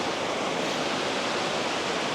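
A waterfall in Norway's Lofoten Islands produces a steady, dense rushing roar of falling water, constant and unbroken, with no voices.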